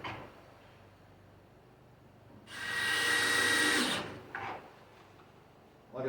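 A power drill drives pocket screws into cabinet face frames, one loud burst of about a second and a half close by, followed by a short quieter whir, with no talking.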